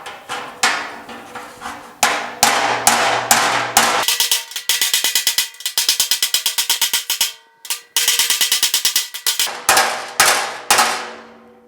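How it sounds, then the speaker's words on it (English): Rapid metallic strikes of a hammer on a dolly ring out close and loud in quick rhythmic bursts, with brief pauses between runs of blows on a GTO's car sheet metal. "Let's go and give it a try with a hammer and dolly."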